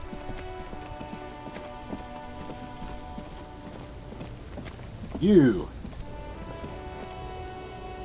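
Steady rain falls in the video game Disco Elysium, an even close patter throughout, with a brief spoken word partway through.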